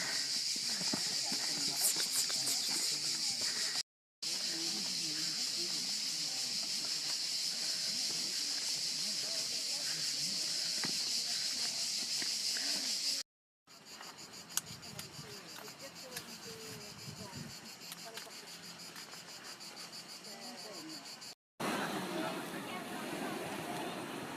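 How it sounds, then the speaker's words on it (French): Cicadas drone in a constant, high-pitched buzz that fills the background, with some voices and movement underneath and a few abrupt cuts. "On entend les cigales."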